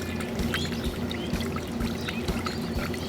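Salsa ingredients with red pepper flakes being whisked together in a bowl for a bourbon peach salsa, a steady wet swishing with rhythmic taps of the whisk against the bowl, close and alone.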